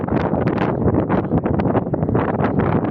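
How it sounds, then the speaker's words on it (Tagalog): Steady wind buffeting the microphone, a constant rough broadband rush with gusty surges and no clear voices. "Mahangin ito doon."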